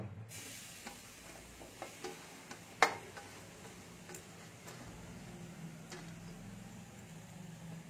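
Grated coconut is stirred by hand in a hot, dry wok: soft, sparse scrapes and light ticks, faint and close, over a low hum, with no voices.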